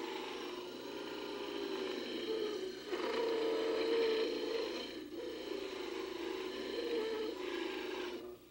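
A dental model trimmer grinds down a stone model of an edentulous impression, a steady mechanical whir with a rough grinding layer that swells and eases in several passes, close and moderately quiet, no talking.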